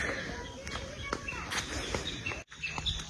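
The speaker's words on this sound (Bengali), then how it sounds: "এখানে এত সুন্দর পাখি ডাকছে" Several birds sing and chirp in the open countryside of Risheehat, North Bengal, clear but moderate, with brief calls recurring over a background of rustling and light footsteps.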